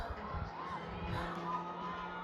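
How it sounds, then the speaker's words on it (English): A distant house party crowd cheers and whoops, a continuous muffled wash of voices with faint music carrying from afar. "Okay, it's definitely a house party with noise, as in people egging each other on to dance."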